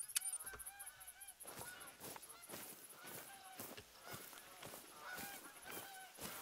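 Geese honking in theHunter: Call of the Wild video game, a flock giving repeated overlapping honks at moderate distance, steady and continuous across the outdoor scene.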